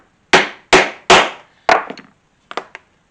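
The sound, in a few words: hammering a setter to set a rivet in leather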